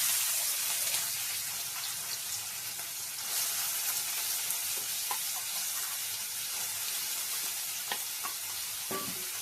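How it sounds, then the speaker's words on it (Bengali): Small cut potatoes fry in a pan, a constant close sizzle broken by occasional clicks and scrapes of a stirring spatula, with no one speaking. "আলুটা এখন ভালো করে ভেজে নেবে"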